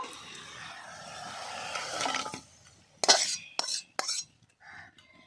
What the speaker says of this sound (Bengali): মাংসটা আমি এবার ঢেলে নেব